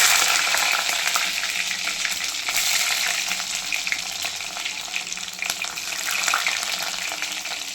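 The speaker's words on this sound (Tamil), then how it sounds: "வெந்தயம் நல்லா பொரியணுங்க" Steady sizzling of fenugreek seeds frying in hot oil, a continuous crackling hiss with small pops throughout.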